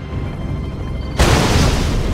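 A Soviet warship in Red Alert 2 fires, a sudden loud booming blast that cuts in after a quiet rumble and rolls on as a broad heavy roar.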